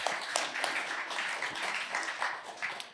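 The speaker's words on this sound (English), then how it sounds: "Let's give another round of applause to Zachary for Yellow Pages." Audience at a hackathon demo event claps for a few seconds, a dense, even patter of many hands with scattered sharper individual claps.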